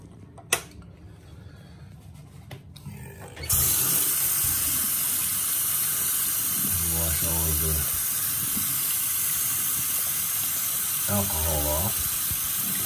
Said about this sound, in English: take it in and wash it with cold water